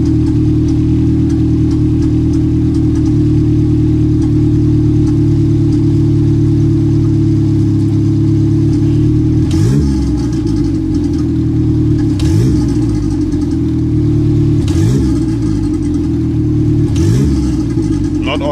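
A Speeduino-tuned car engine runs steadily at idle, then revs sharply three or four times in quick blips toward the end, loud and close.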